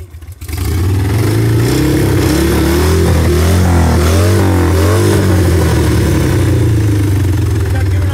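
A motorcycle engine starts and runs loudly close by, revving up and down in rising and falling waves over a steady rumble that continues throughout.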